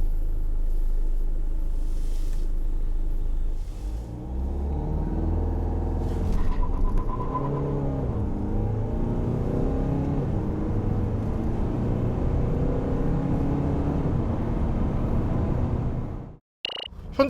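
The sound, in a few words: Kia Carnival 2.2 diesel minivan accelerating from standstill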